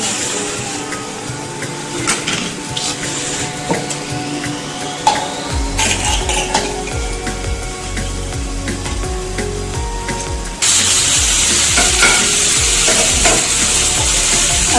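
Spice paste of poppy seed, melon seed, ginger, garlic and red chilli fries steadily in a pan, a continuous loud sizzle with stirring scrapes that grows brighter near the end. No one speaks.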